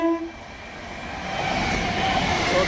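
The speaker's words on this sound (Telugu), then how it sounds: "ఈ ట్రైన్ నెంబర్ వచ్చి 67274 ఒంగోలు టు విజయవాడ మెమో." Ongole to Vijayawada MEMU train passing, a loud rising rumble of railcars building steadily after a brief horn note at the start.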